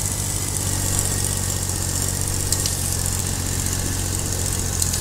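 A Swaraj 855 tractor engine in the Farming Simulator 22 video game drones at a steady idle, with a constant low hum and no break over the whole stretch.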